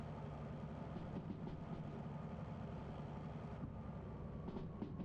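Hard-working diesel engine of a DH4 locomotive in the Derail Valley train game, a steady loud low rumble and drone that holds constant throughout with no talk.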